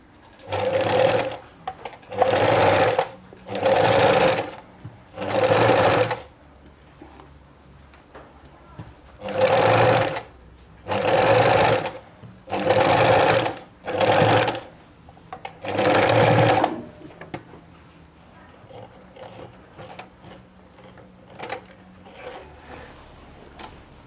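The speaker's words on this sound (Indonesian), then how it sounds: "lalu kita jahit dari sini sampai sini, kita jahit ya" Sewing machine stitching elastic into a fitted bed sheet, running in several short bursts of about a second each with brief pauses, loud and close, a stop-and-go hum of needle strokes with no speech.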